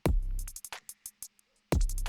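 A produced electronic music track plays a kick drum with tops, snaps and small ear-candy effects. A deep booming hit opens, sparse clicks and short bursts follow, and then another heavy low hit lands near the end.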